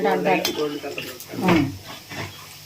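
Chicken pieces frying in a pan for chicken pickle, with soft sizzling, stirring and utensil clinks against the pan close by, under someone speaking throughout.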